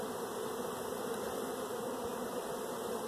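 Honeybees buzz steadily around an open hive during an early-season brood nest inspection, a dense continuous drone close by at moderate level with no voices.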